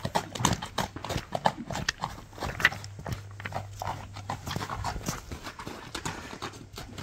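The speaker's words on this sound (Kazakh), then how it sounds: "Екі жаштан достор 3 жашқа өтіп отқан жылқы екен." A two-to-three-year-old horse walks in steady clip-clop rhythm, hooves striking firmly and close by through the whole stretch, with faint background noise underneath.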